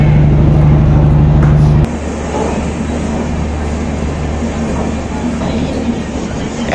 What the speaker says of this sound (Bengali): তারপরে এখন ট্রেন ছাড়লো